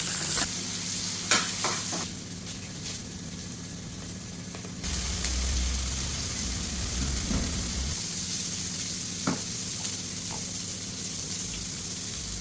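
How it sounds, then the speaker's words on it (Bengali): Whole spices fry in hot oil for a chickpea and onion dish, a steady close sizzle with a brief louder hiss midway and occasional stirring clinks, no talk. "সবগুলো গোটা মশলা দিয়ে এগুলো একটু ভেজে নিচ্ছি"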